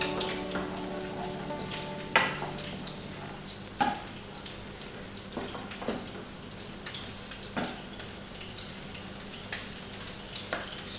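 A salmon fillet sears skin-side down in a hot pan over high heat, a constant close sizzle with sharp crackles and pops breaking through at irregular moments.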